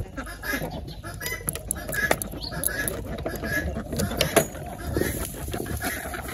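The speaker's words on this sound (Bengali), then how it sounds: "তো হাঁসগুলা ছেড়ে দিয়ে নেই।" Ducks let out of their pen give scattered, close quacks with soft pattering of feet and rustling between calls, and no talk over them.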